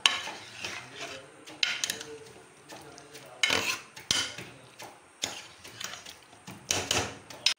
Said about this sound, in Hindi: चिकन डाल दिया, अभी इसको अच्छी तरह हिला देंगे।